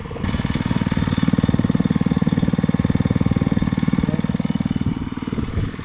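A small tiller engine being broken in, unseated rings and white exhaust smoke, chugs steadily and loudly, its rapid even putter holding close and constant with no voices.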